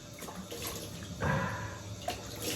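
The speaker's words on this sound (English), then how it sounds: "I'm just gonna wash my face off" Cold water runs from a tap in a steady, hissing stream while someone splashes and washes their face after shaving, with a few brief splashes and drips near the sink.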